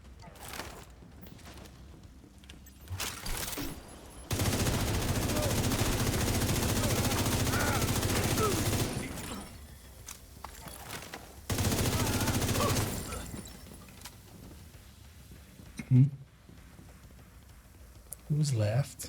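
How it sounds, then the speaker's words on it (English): A multi-missile launcher in a video game fires in two long, loud bursts of rapid launches and blasts, separated by quieter gaps with scattered thumps and shots. "Multi-missile launcher."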